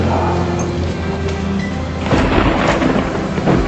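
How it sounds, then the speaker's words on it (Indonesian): Rain begins falling with rolling thunder, a steady broad downpour hiss under deep low rumbles that swell louder toward the end; no one speaks. "Sudah mulai hujan tuh."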